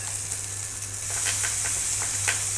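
Ginger garlic paste hits a hot pan and sizzles: a bright, hissing crackle that swells slightly as it goes, with a few sharper spits and a low steady hum underneath.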